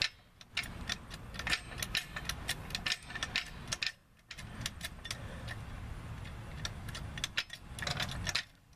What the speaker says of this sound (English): start raising it up with a jack